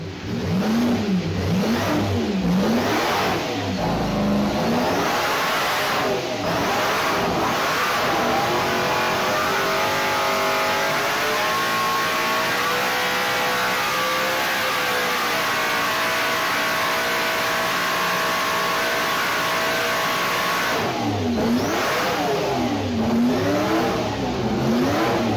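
A 1950 BRM V16 supercharged 16-cylinder Grand Prix racing car engine revs loud and close, rising and falling in pitch with a sustained high-revving scream through the middle, heard alone without talk.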